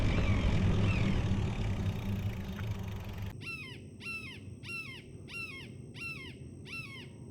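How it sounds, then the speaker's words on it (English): A red-shouldered hawk calls beside a state trail, repeating sharp, descending screams in a steady series of about six, clear and fairly close after a stretch of low rumbling background noise. "That is a red-shouldered hawk."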